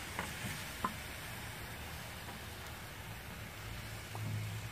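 Liver sautéing in a pan in its own juices without oil, cooked outdoors in a garden, giving a soft continuous sizzle with a few faint clicks and stirring sounds.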